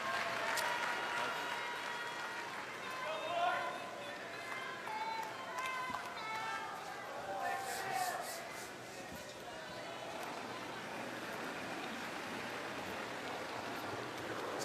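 A crowd at a curling game cheers and applauds for Canada in a steady, broad wash of sound, with a commentator's voice running over it throughout.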